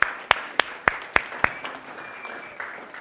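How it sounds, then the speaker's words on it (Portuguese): A small audience at a lecture on pitching claps after a question, six distinct sharp claps at a slow even rhythm, then a faint fading patter and a quiet room. "Mais uma vez, uma salva de palmas, encorajar as perguntas."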